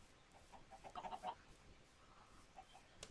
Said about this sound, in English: I'm gonna kill this chicken.